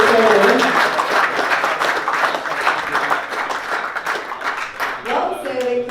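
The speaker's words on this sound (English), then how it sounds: "Can we have a big round of applause?" Audience applause from a crowd at a bushfire victims fundraiser event in Victoria, sustained dense clapping for about six seconds, loud and steady, fading slightly toward the end with a voice briefly emerging.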